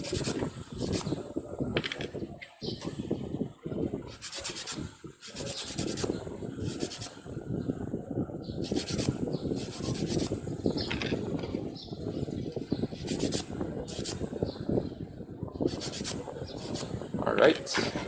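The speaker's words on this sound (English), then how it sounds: "just give it a little sand" Small plastic link-and-link track parts from a model kit are sanded by hand in repeated short scraping strokes, close and rhythmic with brief pauses between.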